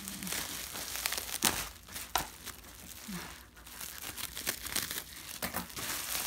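Crinkling and tearing come from a package wrapped in lots of tape as it is pulled open, with close, continuous plastic rustling and several sharper rips.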